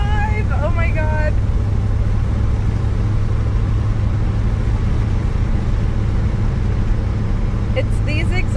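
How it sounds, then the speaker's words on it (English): A 1956 Chevy's engine drones steadily while driving on a California road, a constant low hum with road noise that never lets up, with brief voice-like tones near the start and end. "I'm like out here in California driving a 1956 Chevy"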